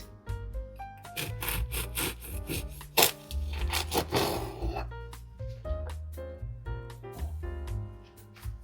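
Knife sawing through a loaf of butter focaccia to halve it, a rhythmic close rasping of blade strokes through crisp crust with crackly crunches, heard alone without talk.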